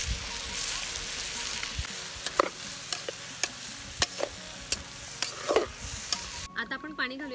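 Washed rice is tipped into a pot with hot oil and stirred, producing a soft sizzle under repeated sharp clicks and scrapes of a spoon against the pot, fairly quiet and close.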